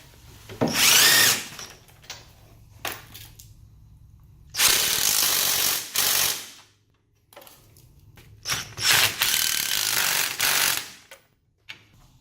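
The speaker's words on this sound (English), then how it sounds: "you just want to start tightening everything up. Make sure you got it all torqued to spec" A power tool tightening control arm and radius rod bolts on a RZR side-by-side, running in several long loud bursts with a whirring buzz, close up, separated by short pauses.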